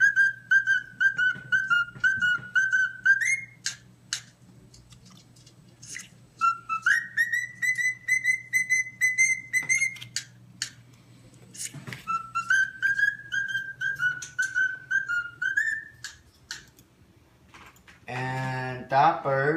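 A cockatiel whistles clear, rising melodic phrases in three bursts separated by pauses, over a low hum, with a brief voice near the end.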